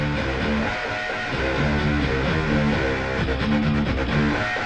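Layered guitar parts from the Need for Speed: The Run racing game soundtrack play a driving, repeating rhythmic riff at moderate volume, dense and steady with no voices.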